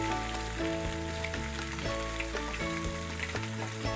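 Chicken pieces fry in hot oil for a Bengali chilli chicken, giving a steady, even sizzle that runs the whole time beneath a tonal musical backing, with no talking.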